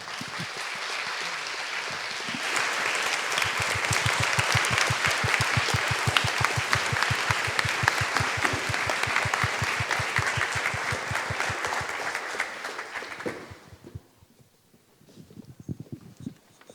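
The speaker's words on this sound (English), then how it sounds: "Please could you join me in welcoming her with a warm round of applause." Audience at the Cambridge Union breaks into sustained, loud applause for an arriving speaker, steady dense clapping for about thirteen seconds before it fades out to near quiet with a few scattered claps.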